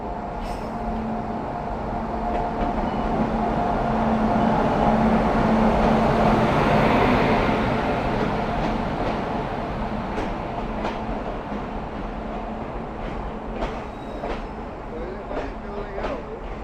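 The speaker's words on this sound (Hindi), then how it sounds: "अपनी गोरखपुर देवघर सावन स्पेशल ट्रेन आ गई है प्लेटफॉर्म नंबर 2 पे" A Gorakhpur–Deoghar Sawan special passenger train rolls into platform 2 at an Indian railway station, a broad steady rumble of wheels and carriages with faint clicks and brakes, mixed with crowd voices.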